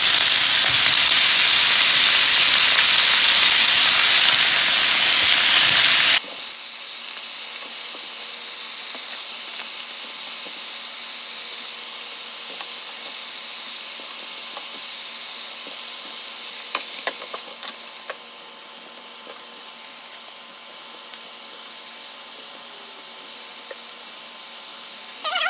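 Cheese steak meat sizzling in a pan, a loud hissing fry that suddenly drops to a softer, steady sizzle, with a few brief clinks of stirring midway and no voices.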